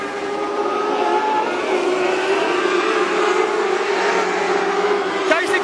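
Modlite race cars battling in a six-car pack on a speedway track, a continuous loud engine roar and whine throughout with a race commentator talking over it.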